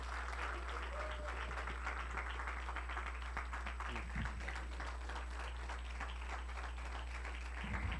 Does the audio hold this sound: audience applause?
yes